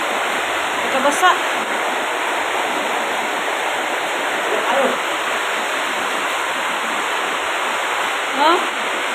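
Flood water pours steadily through a leak into a store, a loud, continuous rushing splash with a few brief louder surges.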